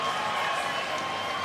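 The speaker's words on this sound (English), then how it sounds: "Listen to this crowd" A crowd at a women's boxing match roars and cheers in a steady wash of noise, brief and fairly distant-sounding, with voices blending into the din.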